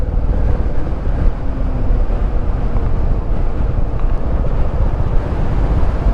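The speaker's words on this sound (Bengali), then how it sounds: "এতক্ষণ পরে একটা ফুরফুরে হাওয়া পেয়েছি" Wind roars across the microphone as a motorbike rolls downhill on a Himachal road, a dense, constant low buffeting rumble that stays loud and unbroken throughout, with no voices.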